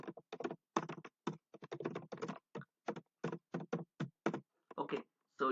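Keyboard typing in short bursts of quick clicks with brief pauses, entering a label while working in data analysis software for impedance analyzer results, close and moderately loud.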